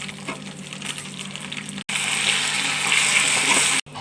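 Grated raw mango tipped into a hot tempering of curry leaves and spices for mango pulihora, a loud close sizzle that surges after a brief break and then cuts off sharply.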